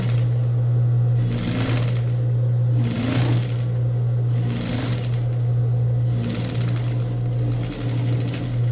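A sewing machine stitches fabric in repeated bursts, its close mechanical whir rising and pausing in a rhythmic pattern over a constant low hum.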